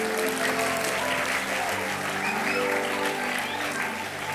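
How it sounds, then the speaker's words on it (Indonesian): Steady applause from an audience at a youth church gathering, clapping for the event committee; dense and even, with background music and chatter beneath. "Boleh kasih tepuk tangan buat para panitia."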